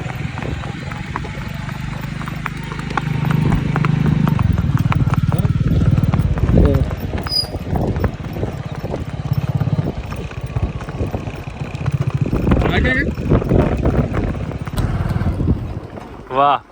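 A horse's hooves clip-clop in an irregular rhythm beneath people talking and background noise outdoors.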